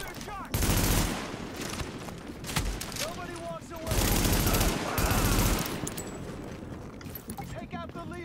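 Gunfire from a weapon in the video game The Division, heard as loud sustained bursts of automatic fire with short gaps between them, mixed with game sound effects and occasional voices.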